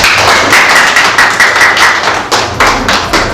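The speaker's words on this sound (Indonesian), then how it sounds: "tepuk tangan dulu." A class clapping hands in a university lecture room, loud, close, rhythmic and fairly even claps repeating steadily for a few seconds with no talk.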